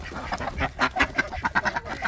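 Farmyard ducks quack repeatedly in quick, uneven bursts, close by and moderately loud, with no talking over them.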